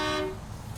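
A truck horn in the video game SnowRunner blares briefly and loudly, then cuts off, leaving a low rumbling engine drone.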